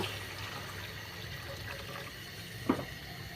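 Water is poured into a pot of lentils that are being sautéed over low heat, producing a faint, steady wash of liquid sound with a brief splash near the end.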